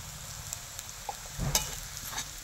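Banana flower and shrimp mixture being stirred in a pan with chili powder: a soft, steady sizzle with a few light scraping clicks from the spoon, faint and close.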